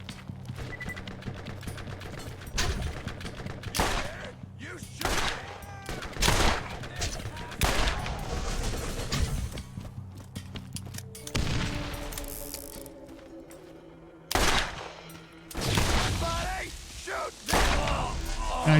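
Gunfire erupts in the video game Borderlands, with repeated loud bursts of shots and booms separated by quieter stretches of game ambience and music across the span.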